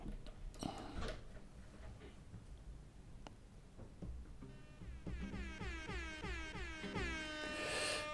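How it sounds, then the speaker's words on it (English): A playful air horn sound effect blares out as a sweeping, wavering horn blast in the second half, preceded by scattered clicks and light knocks, with no speech over it. "Air horn, some claps."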